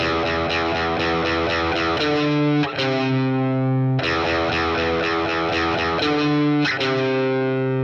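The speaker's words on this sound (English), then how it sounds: "I'll also be using some distortion with this riff to give it that extra oomph" An electric guitar with heavy distortion plays a riff, a loud, sustained chugging pattern of chords that repeats twice with no talking.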